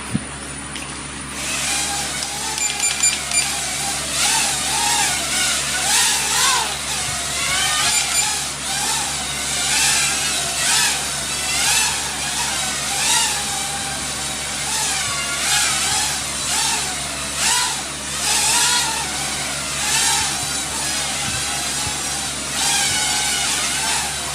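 A Jx815-2 Maverick 2 Mini drone flies nearby, its small motors whining steadily with rising and falling pitch throughout, loud and alone with no talk.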